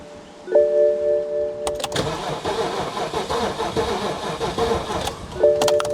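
A BMW E60 550i being cranked on starter fluid, with a weak battery: a steady, loud starter-and-engine churn runs throughout, and a short electronic chime tone sounds near the start and again at the end.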